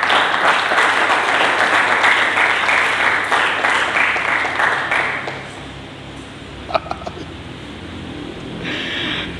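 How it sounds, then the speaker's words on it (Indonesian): Congregation applause during a church service, a dense wash of clapping that fills the first five seconds, then fades to a quieter tail with a few scattered claps and faint voices. "Mari kita berikan tepuk tangan dulu yang meriah."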